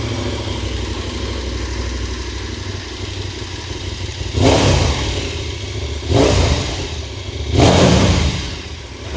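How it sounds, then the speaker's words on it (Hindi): A KTM big adventure motorcycle with dual exhaust idling close by, then three strong throttle blips that rise and fall over a steady engine rumble, no talk. "एक बार मैं आपको एग्जॉस्ट नोट सुनाता हूँ इसका।"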